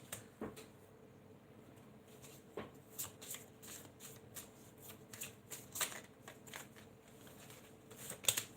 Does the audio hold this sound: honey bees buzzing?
no